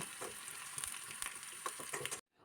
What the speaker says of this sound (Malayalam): ഉള്ളിയും ഉണക്കമുളകും എല്ലാം നല്ലവണ്ണം ഒന്ന് മൂത്ത് വരുന്നിടം വരെ ഇളക്കി കൊടുക്കാം